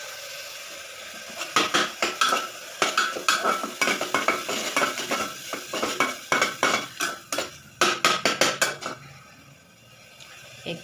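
Tomatoes with salt mashed and stirred in a pan for a baby's dal khichdi: close, rhythmic scraping and clinking strokes of a utensil against the pan, with no talking.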